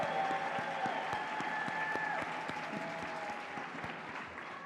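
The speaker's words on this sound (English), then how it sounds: "Join me in a round of applause for our 2022 District Honor Teachers of the Year." Steady applause from an audience at a teachers of the year celebration, sustained clapping throughout that slowly eases a little toward the end.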